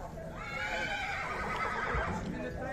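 A horse whinnies loudly and repeatedly at a busy horse and livestock market in Sokuluk, with a steady crowd murmur and talk underneath the calls.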